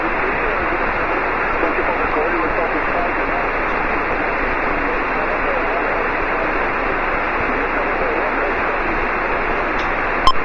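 FO-29 satellite downlink comes through an ICOM IC-910 radio as a steady hiss of band-limited static with faint voice buried in it, ending in a short click.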